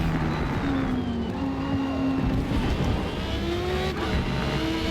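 A BMW M1 race car in Forza Motorsport roars steadily and loudly, its engine tone climbing and shifting through the gears as it accelerates down a straight, with no talking over it.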